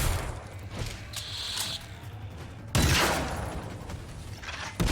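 Video game gunfire, rapid bursts of shots with sharp cracks and short lulls between volleys, loud and close, with mechanical clatter in between.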